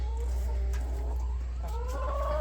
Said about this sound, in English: your aunt picked up a chicken